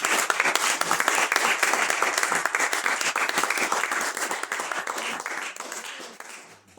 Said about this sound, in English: A well-deserved round of applause there for Bibbs Cameron.